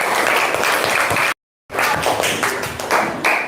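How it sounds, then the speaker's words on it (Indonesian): Classroom applause from a group of schoolchildren, steady and loud, with dense clapping that stops briefly and then starts again, no voices over it. "Tepuk tangan buat semuanya."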